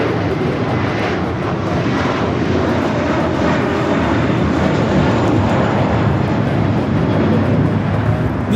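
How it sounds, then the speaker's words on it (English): An American Airlines A321 takes off from Los Angeles for JFK, a dense, loud jet roar holding steady throughout with no break and no voices. "This is American Airlines Flight 4 taking off to JFK on the A321."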